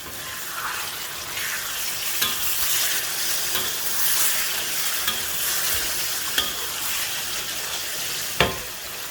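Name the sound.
masala cooking on increased heat for mud crab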